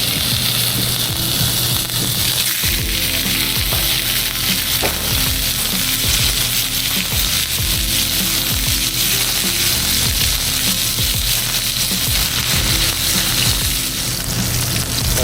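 Sous vide steaks searing in a hot pan, a loud continuous sizzle and crackle throughout with occasional clinks and scraping of the pan.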